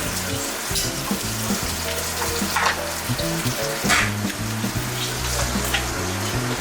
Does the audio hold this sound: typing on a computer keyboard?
no